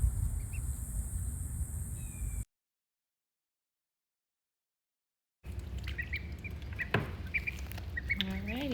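Week-old ducklings peep and quack softly in short scattered calls, faint and close, with a stretch of silence splitting the sounds.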